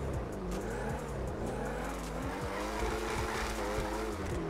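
A drift car in GTA 5 roars continuously with its engine revving up and down while the tires squeal and skid through slides, loud and close throughout.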